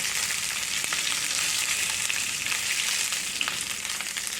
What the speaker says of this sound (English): I got my sausage in the pan